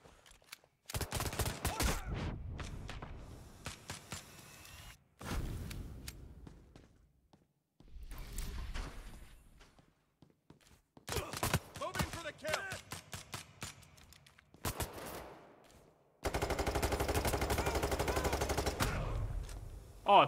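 Video game gunfire from Payday 3 on Xbox Series X comes in loud, rapid bursts separated by brief pauses, with a long sustained automatic volley near the end.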